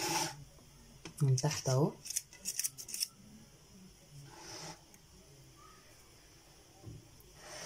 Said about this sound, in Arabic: بصوا انا بحط ورق زبده